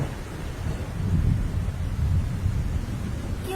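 Heavy rain hisses steadily in a cartoon scene while low thunder rumbles underneath, loud and continuous, with a brief higher clatter at the very end.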